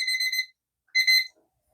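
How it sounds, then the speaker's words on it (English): Kitchen timer going off during silicone mold making, two short bursts of bright, rapid electronic beeping separated by a brief pause, close and loud with no talking. "My timer's getting ready to go off."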